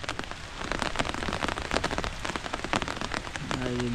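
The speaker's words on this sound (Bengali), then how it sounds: "বৃষ্টি পড়তে শুরু হয়েছে" Rain falls steadily near a canal in a rural wetland area, as a dense, close patter of drops on surfaces that holds an even, hissing roar throughout.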